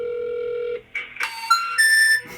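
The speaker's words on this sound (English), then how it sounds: "I found some phone numbers for Dame Dash, and I tried to call him" A telephone dials a number: a steady tone cuts off, then a quick series of short dialing beeps rises in pitch, clear and close with no talk.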